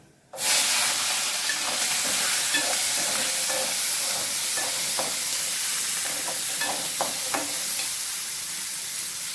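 Small and large onions with garlic sautéing in a pan for bitter gourd kuzhambu, a sudden loud hiss settling into a steady close sizzle with faint stirring scrapes, no talk.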